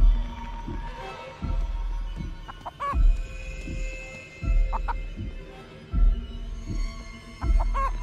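Chickens cluck in short repeated bursts in the video game Chicken Feet, with low throbbing thumps pulsing underneath at a steady rhythm, fairly close and moderately loud.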